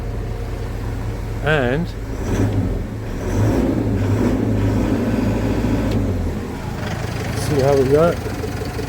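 A Mitsubishi Fuso Canter diesel truck, its DPF being cleaned, idles with a steady low engine rumble throughout, rising briefly as it revs, while someone talks over it.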